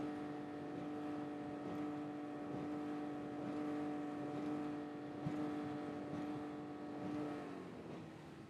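A flat-bottom jon boat runs on plane behind a 30 HP Tohatsu outboard, with a steady, moderately distant engine drone, slight pitch wavering and water rushing beneath.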